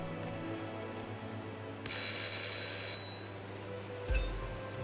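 A doorbell in the video game Hitman 2 gives a bright electronic chime that rings for about a second, then a short second tone follows, over a low ambient hum.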